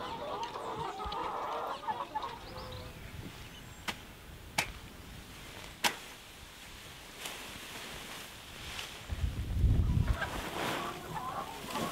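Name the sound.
chickens clucking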